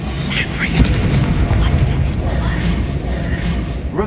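A Confringo blasting spell explodes in Hogwarts Legacy with a heavy, booming burst that rumbles on through the whole moment, mixed with crackling effects and a voice talking over it.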